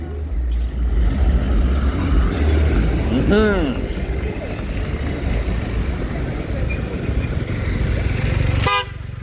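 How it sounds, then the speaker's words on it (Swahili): A powerful motorcycle passes on a busy Nairobi street between Upper Hill and the central business district, its engine rising and falling midway through steady traffic noise, with a short horn toot near the end. "Pikipiki ya nguvu kweli pale."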